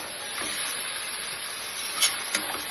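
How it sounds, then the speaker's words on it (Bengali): Cabbage, egg and potato stir-frying together in oil in a home kitchen give a steady soft hiss and sizzle, with a couple of brief louder sputters near the end. "এই দেখো আমি বাঁধাকপি, ডিম, আলু সব একসঙ্গে মিশিয়ে এখন কষাচ্ছি।"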